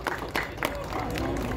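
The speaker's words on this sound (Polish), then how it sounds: "Brawa! Wielkie brawa dla pana Seweryna." An audience at an outdoor award ceremony marking the 50th anniversary of a park miniature railway breaks into a short burst of applause, with scattered claps quickly swelling into steady clapping, and voices mixed in underneath.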